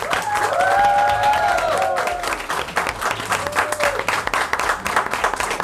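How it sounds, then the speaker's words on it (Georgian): A studio audience applauds two contestants at a quiz show finale, sustained dense clapping with a few whistles near the start, thinning slightly toward the end. "აუცილებლად ძალიან ძლიერი ტაში მიწვნილი ამ ორი ადამიანის მიმართ"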